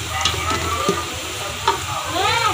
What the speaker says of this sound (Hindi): ये देखिए, प्याज ब्राउन हो रहा है